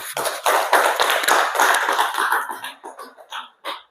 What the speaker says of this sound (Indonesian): beri tepuk tangan sama Asifa dulu